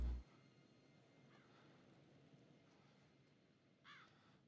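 A crow in the horror game The Devil in Me gives a short, faint caw against a quiet, murky background, near the end of the stretch.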